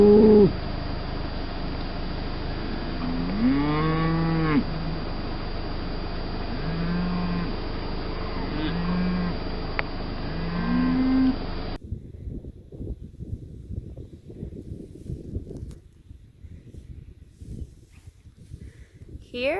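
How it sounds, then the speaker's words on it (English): A cow moos several times in a farm field, loud and close, with low drawn-out calls spread over the first twelve seconds before the scene drops to quieter rustling outdoor noise. "Here we have a cow going to the water trough for some water."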